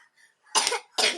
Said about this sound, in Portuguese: Ah, olha a tosse da criatura.